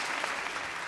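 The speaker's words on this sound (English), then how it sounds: "Give our panelists a round of applause." Steady applause from a crowd, dense continuous clapping filling the whole moment with no pauses.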